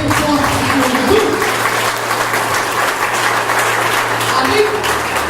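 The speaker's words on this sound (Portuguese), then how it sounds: "Pode dar uma salva de palmas bem forte para Jesus" A church congregation gives a loud, sustained round of applause, dense clapping throughout with a low musical drone and some voices mixed underneath.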